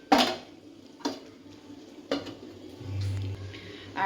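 A spoon scrapes and clanks against a pan as chicken is stirred and braised, three sharp metallic knocks spaced about a second apart over a low sizzle, close and clear with no talking.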